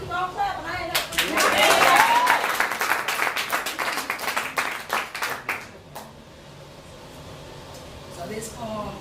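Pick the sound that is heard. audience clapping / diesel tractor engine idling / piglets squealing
audience clapping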